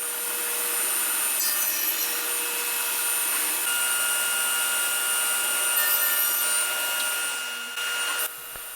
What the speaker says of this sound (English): A well-calibrated cabinet saw like this Hammer K3 is so accurate with this crosscut fence